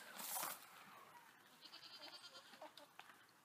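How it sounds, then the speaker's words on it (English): A goat bleats on a small farm beside a chicken coop, a short loud call at the start followed by softer, rapid rustling and clucking-like animal sounds nearby, with no talking. "Ah, there's the goat."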